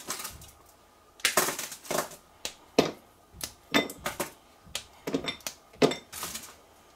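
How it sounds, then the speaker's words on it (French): A bar of chocolate is broken into pieces for a pear and chocolate tart, heard as close, crisp snaps and crunches that come in irregular clusters with no talk. "Allez, casse le chocolat."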